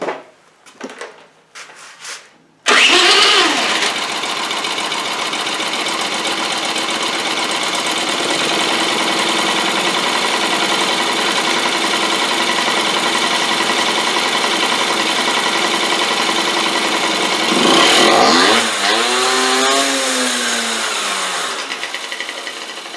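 A two-stroke Honda scooter engine fitted with a Chinese carburetor running an over-rich mixture: a few rattles, then it starts and idles loud and steady, revving up briefly near the end.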